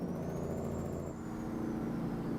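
A heavy truck engine in a truck simulator game, fitted with a 60 series engine sound mod recorded from real trucks, a steady deep rumbling drone with a faint rising and falling whine above it, continuous and close.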